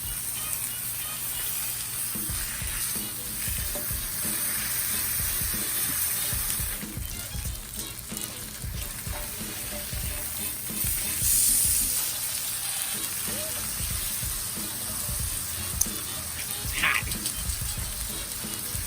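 A bone-in steak sears on a hot Blackstone griddle, giving a steady broadband sizzle that holds for the whole stretch, with a few faint clinks and scrapes from close by.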